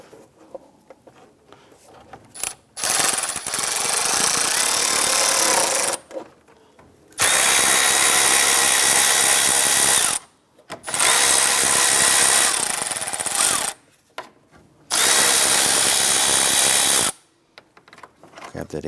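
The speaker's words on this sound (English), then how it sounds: "Remove the 4 10mm bolts securing our 2 fans in place." A power tool drives out the 10mm radiator fan bolts on a 1992-1996 Toyota Camry 2.2L I4, with four loud whirring bursts of a few seconds each, separated by short pauses and small clicks of handling.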